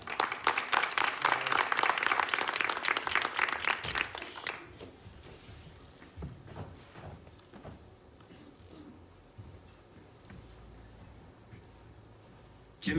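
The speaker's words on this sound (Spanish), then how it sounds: "Un aplauso." Audience applause at a WordPress community talk, with dense clapping for the first four seconds that stops abruptly and leaves quiet room ambience.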